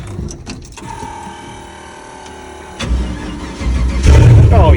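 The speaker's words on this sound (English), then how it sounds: "I guess I need to start my truck, probably pull it inside, huh?" A pickup truck engine cranks and catches, rising from quiet into a loud, rumbling idle close by with a rev at the end.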